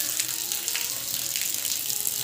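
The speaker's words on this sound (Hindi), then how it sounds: "देखो बारिश हो रहा है" Steady rain falling outdoors during a rainy day, a continuous soft hiss and patter with no distinct drops standing out, moderately loud and unbroken throughout.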